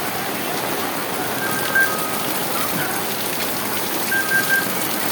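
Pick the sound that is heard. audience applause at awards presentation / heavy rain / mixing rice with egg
heavy rain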